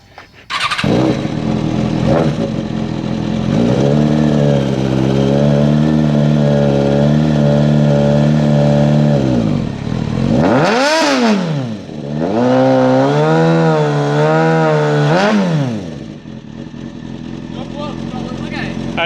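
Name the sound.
sportbike engine revving while pulling a Miata frame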